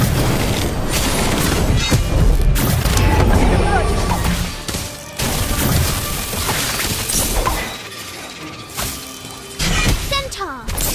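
Battle effects from casting the Incendio fire spell in the video game Harry Potter: Magic Awakened: loud whooshes, crashes and booming impacts over busy game sound, with brief character voices.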